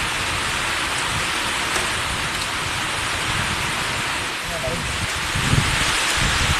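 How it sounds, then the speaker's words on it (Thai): Heavy rain pours steadily, a dense loud hiss with scattered low thumps of drops hitting surfaces close by. "ฝนตกแรง"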